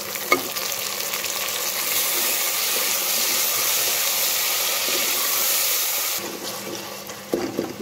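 Tomatoes frying in a pan for apple gourd curry make a loud, close, steady sizzle and hiss that suddenly drops away near the end, followed by a few faint clinks.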